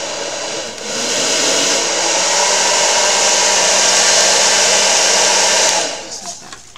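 A heat tool held high blasts hot air over oil pastel on a mixed media art piece, a loud steady whooshing hum that runs about five seconds before cutting off.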